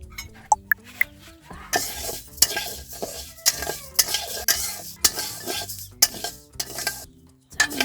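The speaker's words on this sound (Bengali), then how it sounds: "আমি চাল ভেজে নিব কাঠখোলায়।" Rice dry-roasting in a clay pan, stirred with steady, repeated scraping strokes and a light crackling sizzle, close and fairly loud with short pauses between strokes.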